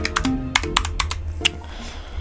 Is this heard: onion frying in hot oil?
no